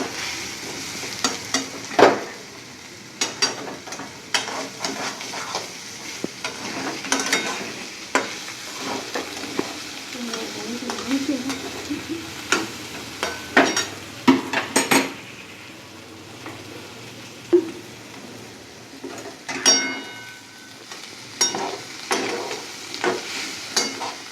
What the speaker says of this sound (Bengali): দিয়ে তেজপাতা দেবো, দিয়ে নাড়াচাড়া দেবো।